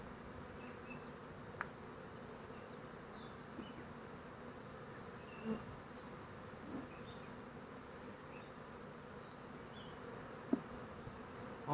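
Honeybees hum in an open beehive during hive work, a steady, faint, continuous buzz with occasional small knocks and no talking.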